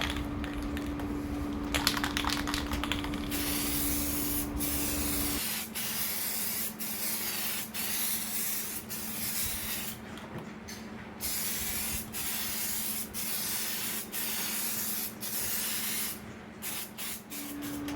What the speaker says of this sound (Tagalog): Ngayon, magbubuga na ulit tayo ng K1K na clear.